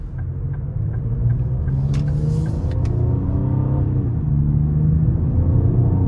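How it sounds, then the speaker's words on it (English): A 2025 Ford Explorer ST with a twin-turbo V6 accelerates, its engine a loud, deep rumble heard from inside the cabin that swells steadily as the throttle opens, with a few light clicks early on. "we're about to give it some throttle here"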